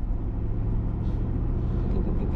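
A Mercedes G63 engine rumbles steadily and loud while the car accelerates on the road, a continuous low drone with no voices.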